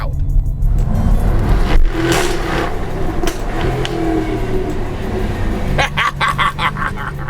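A 2020 Jaguar F-Type R V8 engine roars loudly up close, its pitch rising and falling with revs throughout, briefly dipping before surging again near the end.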